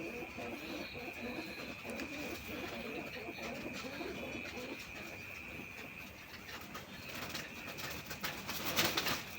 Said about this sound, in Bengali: বন্ধুরা এই যে লোটনের পেয়ারটা দেখেন, এটা এখনই ব্রিডিং করবে ইনশাল্লাহ